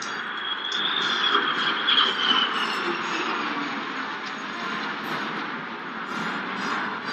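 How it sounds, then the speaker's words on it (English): F-35 Lightning jets passing over London during the RAF centenary flypast at Buckingham Palace, a broad steady distant jet roar that swells slightly and then holds, heard without speech. "the Lightnings, the F-35s. This is the first time that these aircraft have ever been seen in the skies over London"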